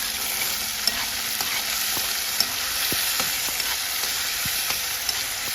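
Seasoning sautés in hot oil for a quick Jamaican dinner, with a constant crackling sizzle and scattered clinks and scrapes of a spoon stirring the pan at an uneven pace.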